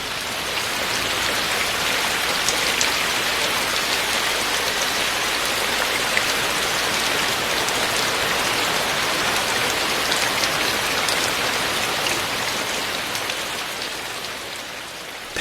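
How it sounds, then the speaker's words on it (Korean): Steady rain pours at Magoksa, a Buddhist temple in Gongju, a dense, even hiss of drops striking surfaces that stays constant and close, fading slightly at the very end. "대광보전으로 비를 피해봅니다."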